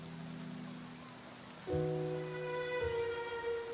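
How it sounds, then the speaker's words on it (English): Rain falls in the Genshin Impact video game, a soft steady hiss of drops under sustained musical tones that swell midway through. "then having the power to make it rain wouldn't be very unusual"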